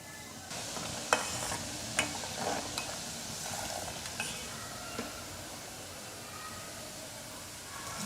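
Fenugreek seeds and ground whole spices stirred in a pan over a low gas flame, giving a soft continuous sizzle broken by several scraping clinks of the spoon against the metal.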